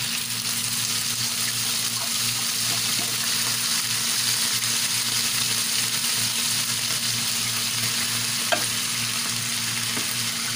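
Corned beef frying in a pan, a constant soft sizzle and crackle with a low steady hum underneath and an occasional faint scrape of stirring.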